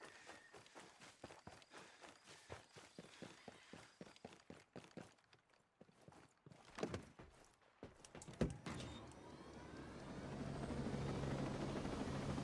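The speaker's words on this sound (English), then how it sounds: "Get to the chopper." A helicopter in Ghost Recon Breakpoint, its rotor thumping in a fast regular pulse that falters midway amid louder bangs and movement, then gives way to a swelling, sustained engine roar.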